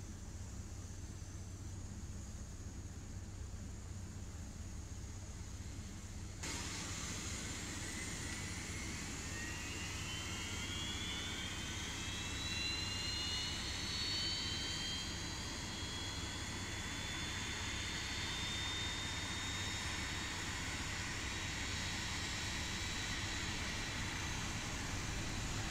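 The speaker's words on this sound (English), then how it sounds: "Starting engine 1." Engine 1 of a simulated Airbus A320 spools up in X-Plane 11: a low steady hum gives way to a rising, whining turbine sweep that climbs in pitch and keeps building over about twenty seconds.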